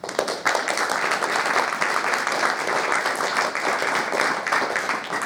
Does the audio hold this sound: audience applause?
yes